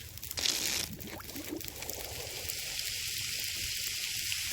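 Snow melting in a pot over a campfire in The Long Dark, a steady faint sizzle and crackle with a brief louder rustle near the start, no voices.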